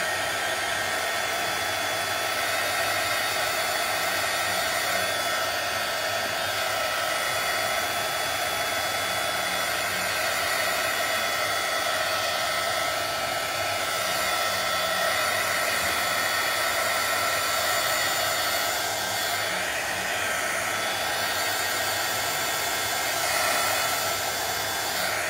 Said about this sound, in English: You're gonna hear the heat gun.